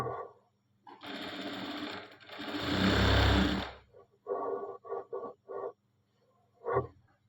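Sewing machine running bursts along a garment seam, with a long loud stretch of stitching followed by several short separate runs and one final burst, close and clear with no talk over it.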